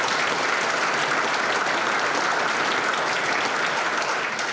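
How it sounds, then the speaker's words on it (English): Dense, sustained applause from a large audience fills a hall of fame ceremony, loud and even throughout with no voices over it. "Please give a round of applause for the late Terry Anderson"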